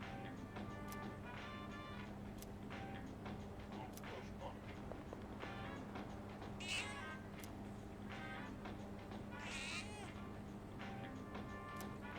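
A cat in the Persona 3 Reload video game meows twice, short and fairly clear, over a steady bed of game music and ambience.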